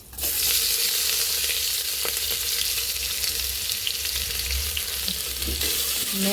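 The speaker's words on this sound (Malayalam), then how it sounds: "അരിഞ്ഞ് വെച്ച് ഉള്ളി ഉണ്ട് കേട്ടോ, അത് ഇട്ടെടുക്കാം." Chopped onions frying for chicken curry, a loud continuous close sizzle that starts abruptly and holds steady throughout, with a few faint stirring knocks beneath the hiss.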